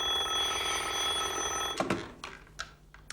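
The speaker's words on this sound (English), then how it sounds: "Answer the phone, Nadine." An old-style telephone bell rings loudly and continuously, then cuts off abruptly, followed by a few clicks and clunks as the handset is picked up.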